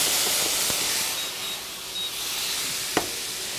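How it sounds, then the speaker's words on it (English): White wine hitting a hot pan of pork and herbs, a broad rushing hiss of steam and sizzle that eases slightly, with one sharp utensil tap near the end. "I'm going to deglaze it with some white wine"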